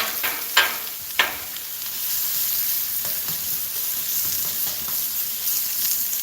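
Vegetables fry in hot oil with a steady, fairly loud sizzle and crackle throughout, a couple of sharp pops near the start, and no voices over it.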